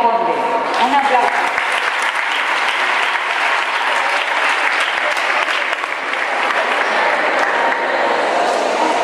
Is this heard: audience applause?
yes